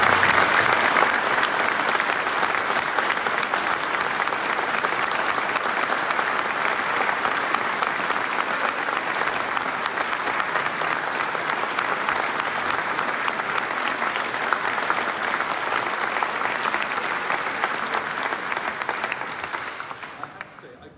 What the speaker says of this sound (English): So can we give him a clap as well?